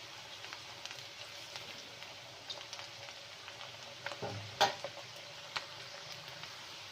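Onions fry quietly in a kadai, a soft steady sizzle with small pops and an occasional clink of a utensil against the pan, close and alone.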